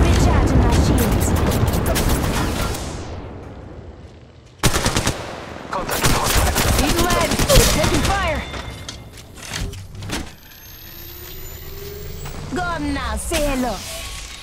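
Bursts of automatic gunfire in Apex Legends Mobile battle royale, loud rapid volleys with a pause, then more shots mixed with game effects and voices calling out over the fighting.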